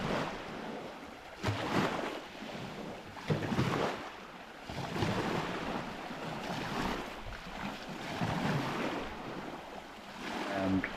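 A dinghy is pushed off into the water: broad wash of waves and water movement with wind buffeting the microphone, a few louder splashy surges, no talking.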